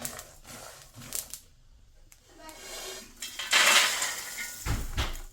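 Roasted almonds are tipped from a pan onto a plate, with a few metallic clanks and scrapes of utensil against cookware, then a louder rattle and knock near the end.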